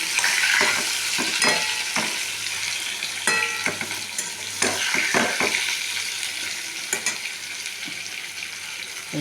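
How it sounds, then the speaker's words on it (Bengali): Pointed gourd frying in a pan is stirred briskly, with a steady hiss of hot oil under repeated sharp scrapes and clinks of the spatula against the pan. "এবার হচ্ছে নাড়াচাড়া করতে হবে ভালো করে"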